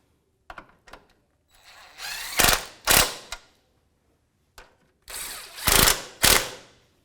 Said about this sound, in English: This is a 14mm socket. We're going to snug them up and then torque it to spec.